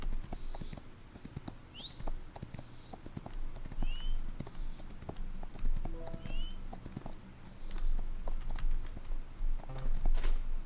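Hooves pound in a steady galloping clip-clop through the Rival Stars Horse Racing game, with short whooshing tones and a constant faint hum behind them and a louder burst near the end.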